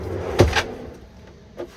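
A heavy-duty drawer holding a Laveo dry flush toilet in a Ford Transit 148 camper van rolls on its slides, making two quick close knocks and then a fainter bump a moment later.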